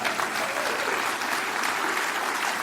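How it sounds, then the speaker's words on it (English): An audience claps in sustained, dense applause, a loud steady wash of many hands that fills the room without a break. "Now, you're supposed to applaud at that right now."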